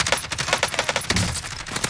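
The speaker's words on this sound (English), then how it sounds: "I'm getting shot." Rapid video-game gunfire crackles in close, repeated bursts, an almost continuous fusillade of loud machine-gun shots with a heavier thud near the middle.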